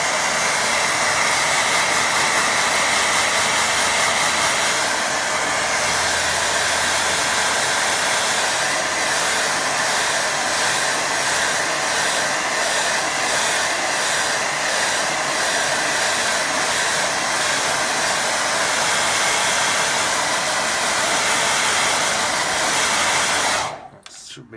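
A hair dryer blows steadily and loudly at close range to dry a wet watercolour landscape painting, a continuous whooshing roar that holds unchanged for over twenty seconds before cutting off abruptly at the end.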